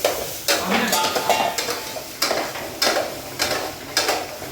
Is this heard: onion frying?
yes